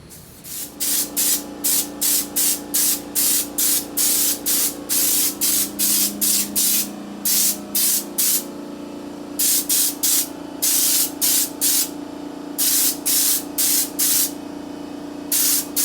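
Adhesive promoter sprayed onto hung Jeep Wrangler fenders in a long series of rapid, evenly spaced hissing bursts, close and loud, with a steady low hum of equipment underneath.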